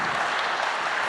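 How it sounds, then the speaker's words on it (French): Audience applause at an award ceremony, a dense, steady clapping from a large crowd that carries evenly and without pause through the whole short moment. "On peut les applaudir."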